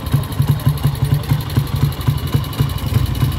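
A 1952 125 ETD motorcycle idles with a steady, even putter of close, loud exhaust pulses that carry on without a break and with no voices.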